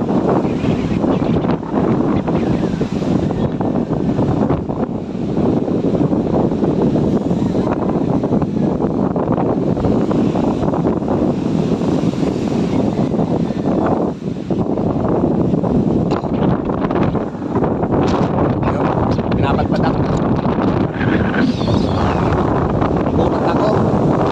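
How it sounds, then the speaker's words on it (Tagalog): Strong wind buffets the microphone over heavy sea waves along a shore with houses, a loud continuous rush with gusts throughout, while a person talks intermittently beneath the roar. "Sobrang lakas ng alon, saka yung hangin, sobrang lakas ng hangin ngayon."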